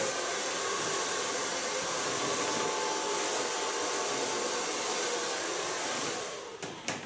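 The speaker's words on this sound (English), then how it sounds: "So far blow drying." A hair dryer blows hair dry in a salon, a steady loud broadband whoosh running continuously before cutting off near the end with a few clicks.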